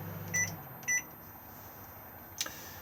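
A microwave oven in an Elddis Autoquest 175 motorhome gives three short electronic beeps, two close together and a third after a pause, clear and nearby in a quiet interior.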